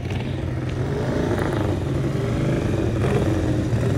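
Motorcycle engines in a drag racing video game as two bikes stage at the starting line, a steady loud droning rumble with slight revving swells, heard without talk.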